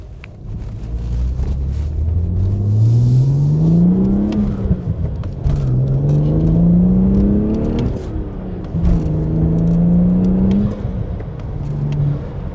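BMW 135i E82 with N55 engine, full bolt-on and MHD tune, accelerating hard through several gears, engine note rising in three long pulls with brief dips at each shift, heard loud from inside the car.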